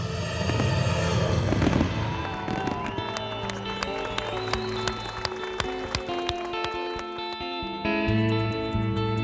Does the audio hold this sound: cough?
no